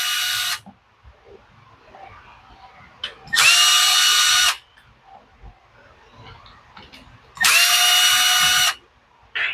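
A power driver with a T25 bit backs out the case screws on a Poulan 3314 chainsaw, three loud whirring bursts of about a second each, separated by quiet handling clicks.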